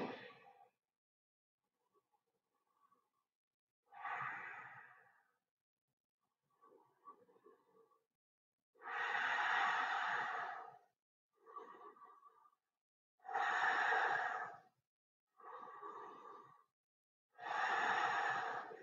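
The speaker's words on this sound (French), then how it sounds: "Cinq respirations, Ujjayi." A person does slow Ujjayi yoga breathing during a class, with long, audible throaty breaths coming one after another with quiet gaps between, close and clear.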